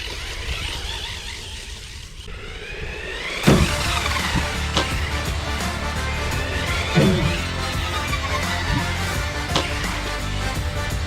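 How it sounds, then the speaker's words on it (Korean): Wltoys 104019 RC monster truck jumping and driving off-road, its electric motor whining steadily throughout with a sharp landing thump near the start and scattered knocks and rattles as it bounces over rough ground. "이제 차량의 내구성을 확인할 수 있는 점프와 오프로드 주행을 보여드릴게요"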